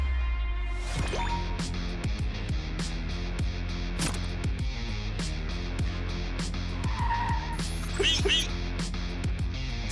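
Tires skid and squeal on a Honda Civic during an automatic emergency braking test against a half-overlap obstacle, with engine and road noise throughout and a brief sharp screech near the end.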